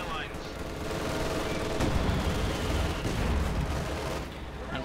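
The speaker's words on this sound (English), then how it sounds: "Quick strafing on here to save the packs this time around." Strafing-run gunfire in Company of Heroes 2 during a 1v1 match: a dense, continuous rattle of automatic fire and battle noise that holds at a steady level throughout.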